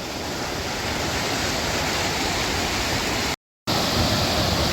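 Rushing water from a large waterfall beside a High Sierra trail near Benson Pass, a loud unbroken roar of falling water with one brief dropout, and no voices.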